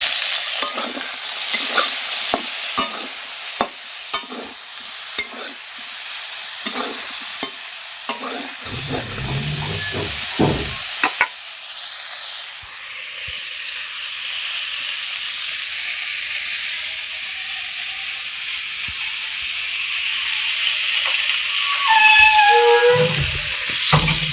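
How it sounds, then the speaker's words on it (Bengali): Rice boils in a pot with a continuous steamy hiss and bubbling, broken early on by clinks and scrapes from nearby kitchen work and swelling a little louder toward the end. "এখন ভাত ফুটছে"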